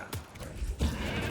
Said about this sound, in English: That was horrible goat sound.